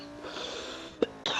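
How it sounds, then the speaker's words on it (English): A sick man coughs once, a short sharp burst over steady room noise from a racing game setup, followed by a hissing breath or rustle. "I'm gonna cough."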